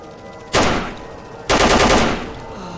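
Gunfire in the shooter S.T.A.L.K.E.R. Lost Alpha Developer's Cut, at the Agroprom Institute: a sharp, loud shot with a decaying tail, then a second, longer, heavier burst about a second later, over a low steady background.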